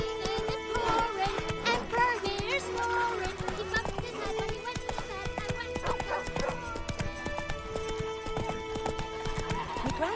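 Hooves of Roach, the horse in The Witcher 3, clip-clop in a quick, steady rhythm over layered game music and a snorting whinny, loud and close throughout.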